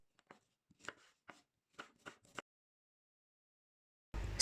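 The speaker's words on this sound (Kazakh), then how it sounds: "Пиязды осылай бөліктерге бөліп тураймыз." A knife chops an onion into pieces on a board, about eight crisp, separate cuts in an uneven rhythm, close and clear, followed by silence and a louder burst at the end.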